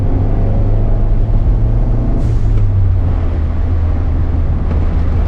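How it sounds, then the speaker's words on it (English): A Carroll Shelby GLHS Turbo idles with a deep, steady engine rumble while its turbo blow-off valve lets out a short, sharp hiss, followed by a fainter second puff of air. "Hear that blow-off valve?"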